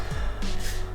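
A single short sneeze bursts out close to the microphone indoors, a quick sharp huff lasting under a second with no talk over it.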